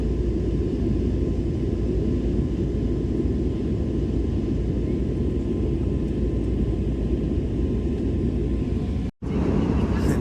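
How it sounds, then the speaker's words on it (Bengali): Inside an airliner cabin on a midnight flight from Kolkata to Mumbai, a steady, loud engine and air roar drones without pause for the whole stretch, broken only by a brief cut near the end. "সামনে দেখছি একটা প্লেন চলছে 640 কিলোমিটার প্রতি ঘন্টায়।"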